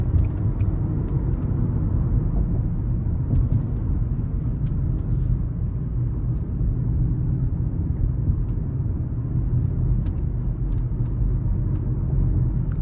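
A 2024 Nissan Altima S with the 2.5-liter four-cylinder engine, accelerating in sport mode onto an interstate: steady low engine drone and road rumble heard from inside the cabin, continuous and unbroken, with no voices.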